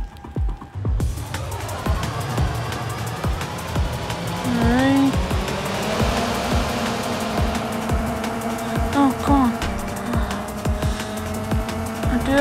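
Racing cars in the game Race The Masters, a steady loud engine drone throughout with rising revving pitches and occasional squeals, no talking.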